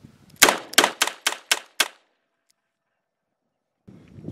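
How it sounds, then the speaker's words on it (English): Six rapid shots from a Chiappa Rhino .357 Magnum revolver, loud sharp cracks fired in quick succession at roughly even intervals, followed by quiet and faint rustling. "So yeah, you can shoot quick with it."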